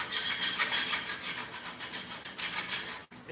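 Belt sander fitted with a coarse grit belt grinding against a workpiece, a steady close rasping rub with slight surges in intensity, cutting off abruptly near the end.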